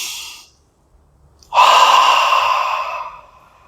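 A single long, close inhalation during a chair yoga class, rising sharply after a brief quiet and holding for over a second before fading, loud and breathy.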